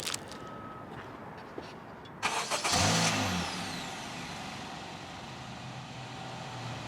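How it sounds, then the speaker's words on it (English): A 10th-generation Honda Civic sedan starts up: a quiet interior hum, then the starter cranks briefly, the engine catches with a short rev, and it settles into a steady low idle. "All right, so now Stephon's gonna start the car and then we'll see"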